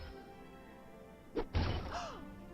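A Confringo blasting curse from Harry Potter: Hogwarts Mystery, cast during the Year 4 curse-breakers chapter: a short thump, then a bigger crashing burst with a bright rising magical shimmer that fades over a steady game music bed.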